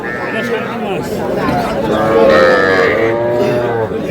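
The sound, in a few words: Sahiwal calf mooing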